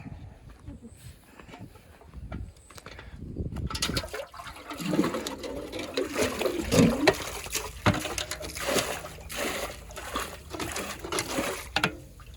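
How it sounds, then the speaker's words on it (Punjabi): Water is splashed out from a bucket onto newly planted trees in uneven gushes and splatters, starting quietly and growing louder, with scattered handling noises. "ਬਾਲਟੀ ਭਰ ਕੇ ਦੇਵਾਂ ਪਾਣੀ ਦੀ"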